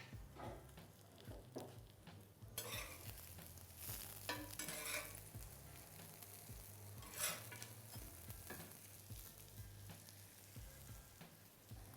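Food fries in a splash of oil on a barbecue plate, a soft continuous sizzle that swells louder after a few seconds, with faint scraping and stirring noises and no talking.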